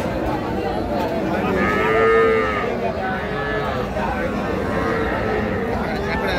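A heifer calf mooing at a busy cattle market, drawn-out low moos standing out against a constant crowd of voices and livestock bustle.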